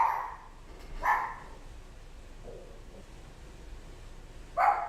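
A dog barks in three separate bursts, the first at the very start, one about a second in, and a last one near the end, with quiet room tone between them and no talking.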